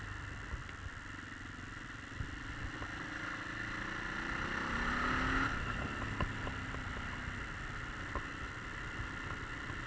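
An SWM 650 R motorcycle engine under way on a test ride, a steady continuous drone with constant wind rush across the whole span and no clear revving peaks, heard from the rider's position.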